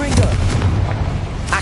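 A spell explosion from the Confringo curse in Hogwarts Legacy, a dense booming blast that rumbles loud and steady through the whole brief moment.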